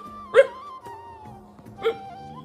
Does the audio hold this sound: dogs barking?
yes